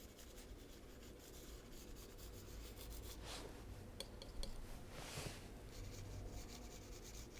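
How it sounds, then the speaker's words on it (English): A palette knife scrapes dark oil paint across a canvas in soft, faint rasping strokes, a steady quiet rub with a couple of slightly louder drags. "just kind of scraping it into the canvas"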